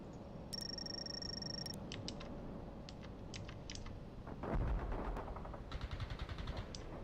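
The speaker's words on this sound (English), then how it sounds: "They're firing at us." Scattered bursts of distant enemy gunfire in the real-time strategy game World in Conflict, faint and low in the mix, with sharper clusters of shots toward the end.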